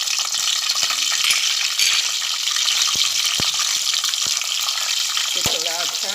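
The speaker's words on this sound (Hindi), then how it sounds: "तो थोड़ा अच्छा तेल में फ्राई होने दूंगी" Mustard seeds and cumin frying in hot oil with curry leaves and green chillies for a tempering, a steady close crackling sizzle with scattered sharp pops and a brief stir of the pan.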